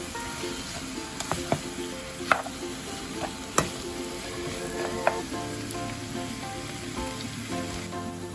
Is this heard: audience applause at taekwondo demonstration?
no